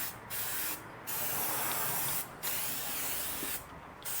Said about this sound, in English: I'm just going to spray down this block real good